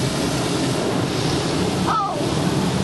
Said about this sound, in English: now that was the blast of water